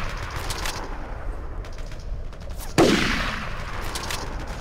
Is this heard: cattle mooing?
no